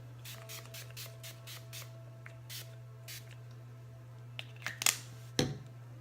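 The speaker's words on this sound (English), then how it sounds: "And then we are gonna spray our face." A series of short airy hisses from a spray bottle misting a face, several quick misting bursts, ending in a couple of louder close sprays over a steady low hum.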